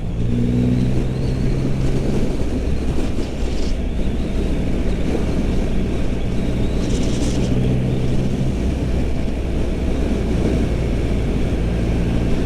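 A 2022 Triumph Rocket 3R cruiser motorcycle on a test ride, its engine giving a steady loud low drone mixed with wind rush, with no talking.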